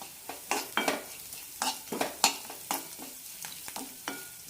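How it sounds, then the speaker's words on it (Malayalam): Kuzhi paniyaram batter mixed with asafoetida and coriander leaves, heard as a rhythmic series of sharp, wet scraping and clacking stirring strokes against a bowl, close and alone. "നന്നായി മിക്സ് ചെയ്യാം"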